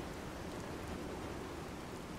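Steady hiss of heavy radiation rain pouring during a storm in Fallout 4 with the True Storms mod, a dense, even wash of sound with no talk over it.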